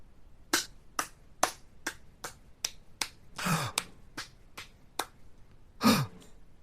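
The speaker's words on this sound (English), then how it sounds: "Is that you clapping?" A single person claps in sparse, uneven single claps spread out over several seconds, close and crisp against quiet, with a couple of louder breathy bursts between them.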